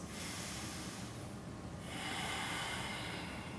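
Deep, slow breathing during an intense power yoga twist, a soft airy hiss of inhaling and exhaling close to the microphone, steady and continuous with no talking.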